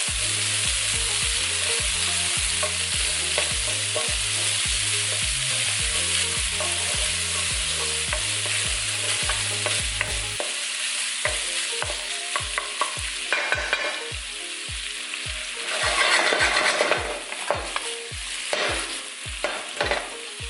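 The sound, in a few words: pancetta frying in a pan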